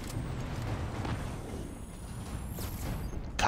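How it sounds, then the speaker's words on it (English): Low, rumbling booms and blasts roll continuously through a Destiny 2 game soundscape, dense and steady without clear pauses, a few sharper cracks near the end. "That was a lot of explosions in one spot."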